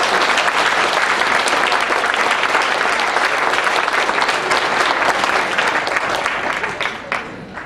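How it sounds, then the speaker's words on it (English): A crowd at a public event gives a sustained round of applause, thick and even for several seconds before thinning out near the end. "let's give a great round of applause again for all of you"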